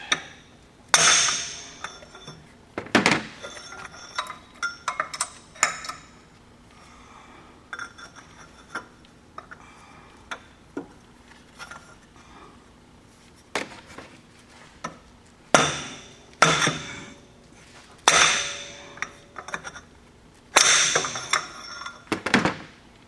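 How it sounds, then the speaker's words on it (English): A dead blow hammer strikes a pipe slid over a wrench to break loose a stubborn bolt on a GMC Yukon power steering pump. The close, sharp thuds land irregularly over and over, some in quick pairs with pauses between. "Use a dead blow. And try and break this loose."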